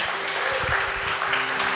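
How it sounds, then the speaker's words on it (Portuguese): A church congregation applauds during a sermon, with a brief, full burst of clapping and a faint low hum running underneath. "Aplaude Ele bem forte."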